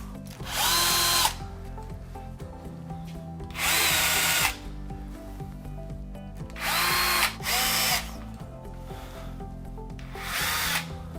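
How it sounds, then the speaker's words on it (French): A power drill bores into a bathroom wall to mount a shower screen, sounding in four loud bursts of about a second each, separated by quiet gaps. "On va venir percer le mur."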